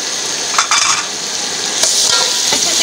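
Whole cumin, black peppercorns, cinnamon, cloves and green cardamom fry in hot oil for a beef yakhni pulao, giving a steady close sizzle with a few brief stirring scrapes.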